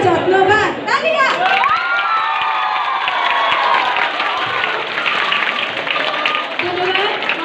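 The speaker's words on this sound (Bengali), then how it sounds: "তালিয়া" At a school SSC farewell programme in 2021, an audience applauds after a farewell poem. Sustained clapping runs throughout, mixed with cheering and children's shouts, and voices carry over the crowd.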